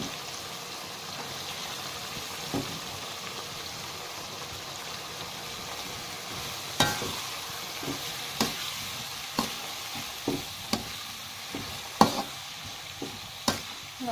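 Long beans fry in a pan while a utensil stirs them, producing a steady sizzle with a series of sharp scraping clicks in an irregular rhythm during the second half, close and without speech.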